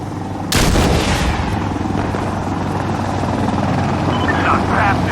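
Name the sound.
gunfire in the video game Insurgency Sandstorm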